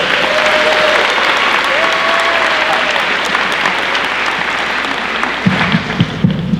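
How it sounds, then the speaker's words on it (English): A school audience at a senior signing day applauds in a loud, dense round of clapping that holds steady, with a couple of whistles early on and voices and cheers breaking through as it tapers at the end. "Let's give Jacob a round of applause."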